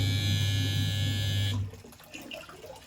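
An LG 11.5 kg semi-automatic washing machine's timer buzzer drones steadily for about a second and a half, then cuts off abruptly, leaving faint watery sounds.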